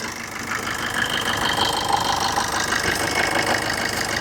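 A diesel vehicle's engine runs steadily at idle, a dense, even rumble with a slight knocking texture that holds close and constant throughout, with no voices.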